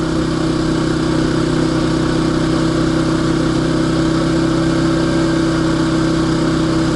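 Champion dual fuel generator running at full throttle, a loud, steady engine drone with a constant low hum and no change in pitch throughout.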